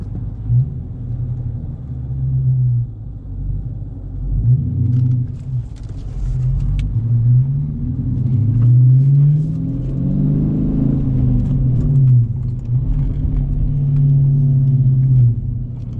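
Dodge Challenger R/T with a 6-speed manual pulls through the gears, its deep engine rumble rising and falling with each rev and shift, loud and close from inside the car, with no talking.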